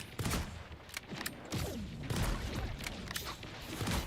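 Bursts of gunfire from a video game character's weapon crack out in quick, uneven volleys with heavy thumps, loud and close, with almost no talk.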